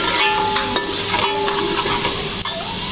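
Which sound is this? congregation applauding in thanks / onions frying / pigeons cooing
onions frying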